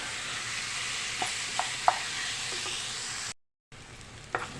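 Boiled potato pieces fry in masala with a soft, steady sizzle as a spoon stirs and taps against the pan, then a short silence before the frying resumes with another clink.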